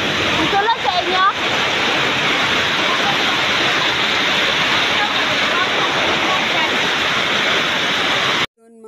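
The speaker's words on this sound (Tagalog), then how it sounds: "Nakikita niyo yung mga ano, yung mga tubig pumapasok sa loob ng bahay nila" Flood water rushing into houses, a loud continuous torrent of churning water that stays steady and close, with brief voices near the start before it cuts off abruptly at the end.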